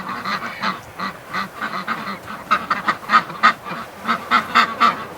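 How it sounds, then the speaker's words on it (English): Ducks in a barn at -33°C quack in a steady series of short, nasal calls, close by and fairly loud, getting busier and more overlapping toward the end. "I hear quacking at the doorway."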